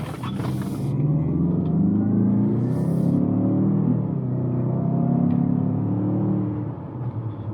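A 2021 Mazda CX-5 Signature AWD accelerates, its engine rumble rising steadily and holding loud and close from inside the cabin before easing off near the end, with no talking.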